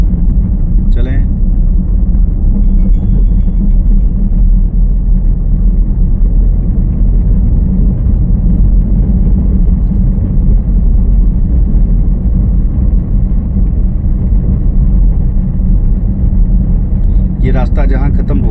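A car being driven in third gear by a learner on a road, with a steady low engine and road rumble running throughout and people talking over it.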